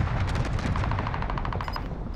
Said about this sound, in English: People shooting at church.